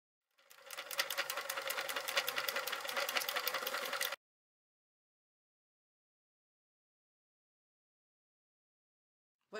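A sewing machine stitches clear PVC vinyl for a pouch in one steady, rapid burst of rattling needle strokes lasting about four seconds, close and alone, then stops into silence.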